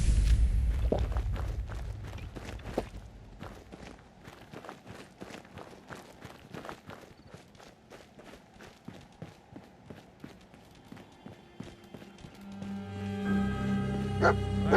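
Dogmeat, the dog companion in the Fallout 4 video game, gives short barks and yips over game footsteps, running and ambient effects, with a musical swell near the end.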